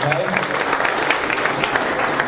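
A crowd at a political rally claps continuously, dense and steady applause filling the whole moment, with no voices standing out.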